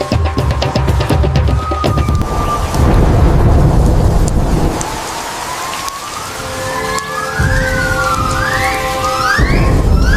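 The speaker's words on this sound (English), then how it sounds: "he senses a massive tropical storm approaching" Heavy rain pours steadily while deep thunder rumbles and rolls loudly throughout, with a few high rising tones cutting through near the end.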